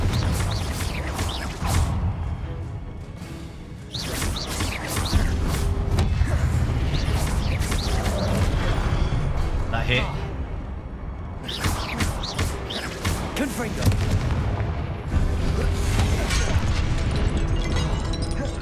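Confringo blasting spells in Hogwarts Legacy on PS5 set off repeated loud booming explosions and crashes in dense bursts with brief gaps, thick with rumbling game effects throughout.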